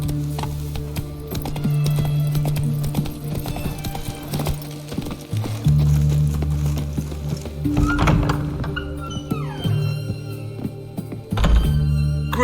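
Roach, Geralt's horse in The Witcher 3: Wild Hunt, gallops with steady clip-clop hoofbeats over a loud, sustained game music bed, with a brief whinny and a few thumps midway.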